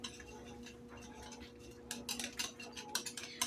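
Bread dough ingredients for caraway rye loaves being stirred in a bowl, soft at first and then quick clinking and scraping taps of a utensil against the bowl, close and fairly quiet, with no talking.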